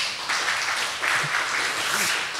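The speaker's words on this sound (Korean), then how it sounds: "큰 박수 한번 부탁드리겠습니다" Audience applause in a hall at a Korean food-tech forum, honoring ministry officials; a moderate, steady wash of clapping that lasts the whole stretch without talk.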